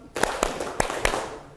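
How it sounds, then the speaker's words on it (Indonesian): A class of students claps hands in a counted rhythm, four crisp unison claps evenly spaced about a quarter second apart, loud and close in a reverberant room. "coba kita bertepuk tangan terlebih dahulu"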